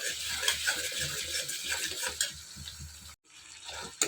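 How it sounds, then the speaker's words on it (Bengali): A spice paste with tomato, turmeric, salt and chilli powder is stirred and fried in a pan, with steady sizzling and repeated scraping strokes of a spoon, close and continuous with one brief gap. "এখন মশলাটা ভালো করে একটু কষিয়ে নিই।"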